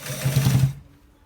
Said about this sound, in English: This is how we stitch the back part.